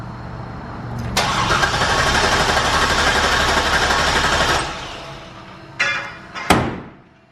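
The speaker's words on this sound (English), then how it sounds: "Go ahead and crank it over for a little bit." The supercharged Corvette engine cranks over on the starter without firing, priming oil pressure in a shop: a steady, loud rhythmic churning for about three and a half seconds, followed by a few sharp knocks and clunks.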